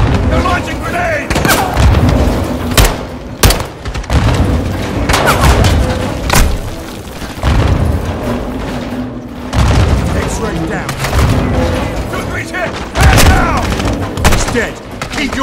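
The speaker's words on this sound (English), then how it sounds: "Incoming! Take cover! They're launching grenades!" Grenade explosions and gunfire rage through a firefight in Call of Duty: Modern Warfare 2 (2022), with dense booms and rapid shots pounding loudly and continuously while voices shout over the battle.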